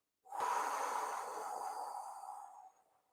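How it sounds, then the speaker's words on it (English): One long breath blown out steadily during a singing-class breathing exercise, a breathy rushing exhale that lasts nearly three seconds, close to the microphone, then fades and stops. "we're just going to blow it up in one long breath like this"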